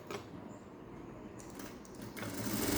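Close, quiet whirring and clatter of a sewing machine stitching the lining of a princess-cut blouse, running steadily with a slight rise in intensity near the end.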